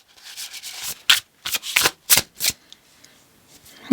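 Tarot cards being shuffled by hand, a burst of several quick papery riffles and rubs in close succession, then quieter. No talking.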